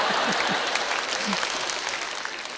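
Sustained audience applause at a comedy show, dense and steady throughout, with a brief voice or two faintly audible under the clapping.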